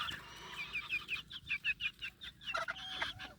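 A young Kewata rooster clucks in a quick run of short, repeated calls, fairly close, over a faint background hum.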